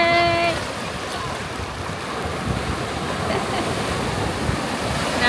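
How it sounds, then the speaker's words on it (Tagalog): Ocean waves breaking on a Jacksonville, Florida beach near a fishing pier, a continuous loud wash of surf and wind. "Naabangan mo yung alon,"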